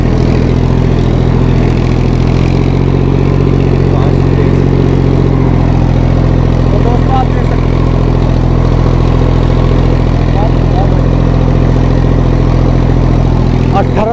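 A Massey Ferguson 1035 DI 35 hp tractor engine running steadily at 1700–1800 RPM, a loud, close, continuous diesel drone with a constant low hum. No other sound interrupts it.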